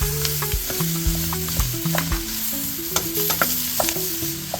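Onions, peppers and celery frying in hot roux for Cajun crawfish étouffée, a continuous close sizzle broken by rhythmic scraping strokes of a spoon stirring the pot.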